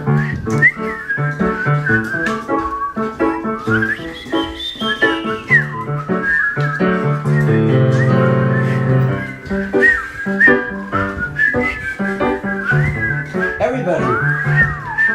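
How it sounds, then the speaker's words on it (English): Several people whistle together, improvising a wandering, overlapping melody with no set tune, lively and close. "All right, whistle with me. Just make stuff up, whistle."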